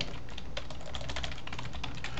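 Rapid clicking keystrokes on a computer keyboard, steady and close, with no one speaking.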